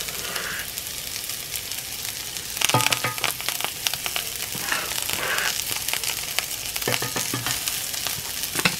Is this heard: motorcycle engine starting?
no